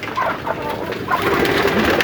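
Pigeons that graze on grass coo in low, rolling calls at moderate volume, overlapping with steady background noise.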